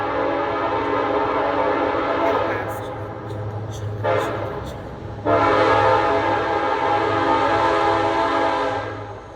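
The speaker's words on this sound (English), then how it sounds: "There's a train in the background." A train rumbles steadily nearby and sounds sustained horn blasts, loud and continuous throughout, with the tone swelling partway through.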